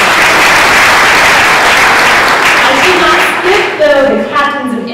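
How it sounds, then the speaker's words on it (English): An audience applauds at a US Embassy event in Harare, a loud, dense wash of clapping that holds steady, then thins and tapers near the end as a voice begins speaking over it. "Can we please give them a round of applause?"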